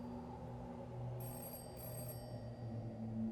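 Telephone ringing in Hollowbody, a quiet high-pitched electronic ring in two short bursts over a low droning ambience, faint and somewhat distant.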